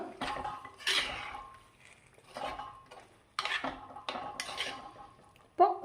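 A spoon scrapes and clinks against a pan while sardine fish masala is mixed, making soft, irregular stirring and metallic taps nearby, fairly quiet, with a sharper clank at the end.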